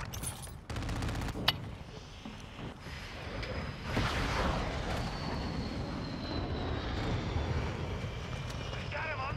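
A VTOL aircraft in a military shooter video game roars overhead amid a continuous din of gunfire and explosions, loud and dense throughout, with a rising whoosh around the middle and sharp burst-like transients early on.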